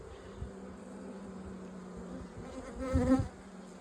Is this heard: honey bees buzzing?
yes